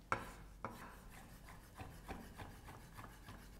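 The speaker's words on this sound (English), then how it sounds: "then chop finely" Peeled, deseeded roasted peppers being chopped finely with a knife on a wooden board, a series of soft, evenly spaced knife taps, fairly quiet and close.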